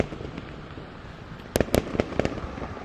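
Fireworks burst at a city-wide firework show, with a few sharp, loud cracks and pops arriving in a quick cluster after a stretch of distant crowd-like rumble.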